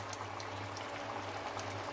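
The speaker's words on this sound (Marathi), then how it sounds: "ग्रेव्हीला छान उकळी आलेली आहे।" Dhaba-style matar palak gravy bubbles at a simmer in a pot, a faint, soft, continuous burble with no voices.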